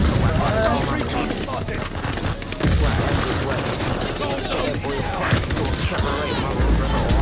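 Rapid PPSh submachine gun fire from Call of Duty Vanguard, dense continuous rattling bursts packed with shots and game effects, loud and close, with a player talking over the action.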